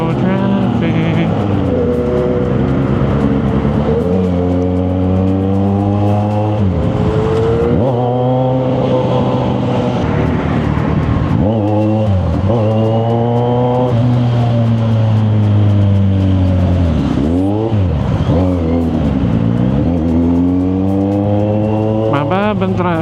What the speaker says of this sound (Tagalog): Traffic na talaga.